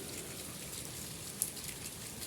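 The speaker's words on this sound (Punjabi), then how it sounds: "ਮੀਂਹ ਦੀ ਸਪੀਡ ਹੋ ਗਈ ਘੱਟ" Steady rain falls on surfaces outdoors where a bird stands in the downpour, a dense even hiss with one brief sharper drop tap; no voices.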